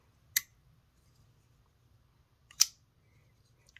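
A Norseman folding knife's blade snaps shut twice with a sharp, close clack, the two crisp strikes about two seconds apart against near silence.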